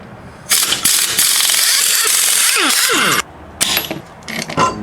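A Snap-on IM51 impact wrench with a 21 mm socket zips off lug nuts on a 2002 Mitsubishi Lancer in loud, close bursts of rapid hammering with whining pitch sweeps, separated by short pauses.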